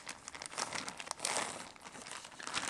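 A resealable airtight plastic bag is handled and pressed shut with air-drying modelling clay inside, producing close, faint crinkling and rustling with small crackles.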